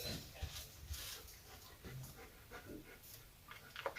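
A dog pants close by in a quiet indoor room, quick breathy puffs in an uneven rhythm with a few soft thumps and small movement noises, fairly faint overall.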